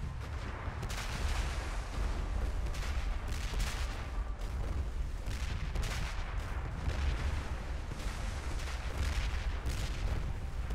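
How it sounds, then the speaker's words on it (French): A dense, continuous barrage of booming ship cannon blasts and heavy gunfire in the MMORPG ArcheAge, loud and relentless, with overlapping explosions throughout. "Utilisez le canon en vous en approchant et en appuyant sur F."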